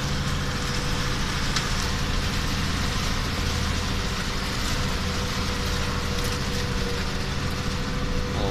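A New Holland T7.170 tractor ploughing an autumn field with an Agro-Masz plough, its engine a constant loud drone heard from inside the cab, with no voices.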